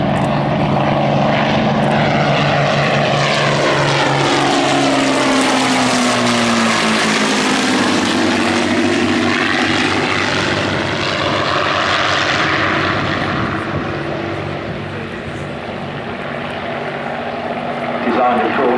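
Hawker Hind and Demon biplanes fly at Old Warden, their piston engines and propellers making a loud, continuous droning roar that sweeps in pitch as they pass close by.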